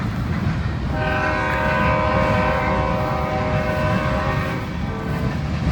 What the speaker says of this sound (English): Got another horn blowing.